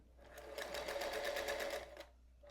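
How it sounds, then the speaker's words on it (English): A Featherweight sewing machine stitching while chain piecing a quilt: a steady, rapid mechanical whir with regular needle ticks that runs for about a second and a half and then stops, heard close and alone. "I'd like to get proficient at sewing with this machine."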